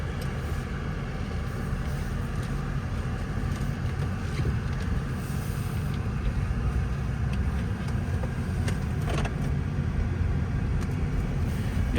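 A 2015 BMW 640i M-Sport xDrive convertible on the move, with a steady low engine and road rumble heard from inside the cabin and no one talking.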